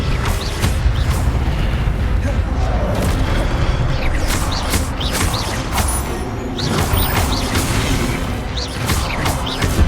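A disarming spell in Hogwarts Legacy goes off amid continuous game combat, with booming impacts, crashes and magical whooshes layered densely throughout.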